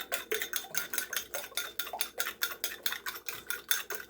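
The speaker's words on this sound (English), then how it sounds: "I'll take my fork and I'll beat the eggs up." A fork beats eggs in a bowl for sweet potato pie, with quick, even clicking strokes against the side repeating steadily at close range, with no talking.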